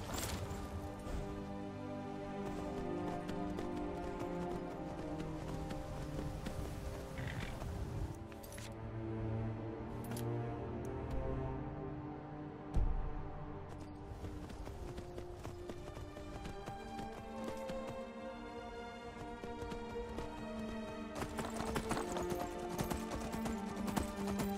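A horse's hooves clip-clop and gallop in the video game Skyrim, a steady rhythmic beat that carries on for a long stretch under continuous music, with one sharp louder hit partway through.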